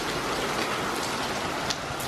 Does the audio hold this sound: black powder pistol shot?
no